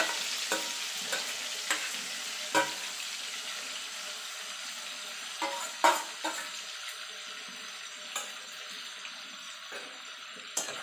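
Taro leaves cooking in a little hot oil, with a soft continuous sizzle and occasional sharp clicks of a utensil against the pan over about ten seconds, close and fairly quiet, no talking.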